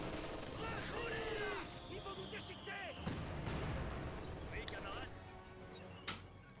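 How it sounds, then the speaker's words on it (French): Mortar bombardment in the World War II strategy game Company of Heroes 2, scattered dull booms and sharp cracks at irregular intervals, fairly faint, mixed with people talking. "Ah ils bombardent bien là. Là ils ont deux mortiers ici là."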